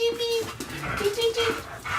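A small puppy whimpers in a few thin, high whines that rise and fall, heard under ongoing close conversation in a room.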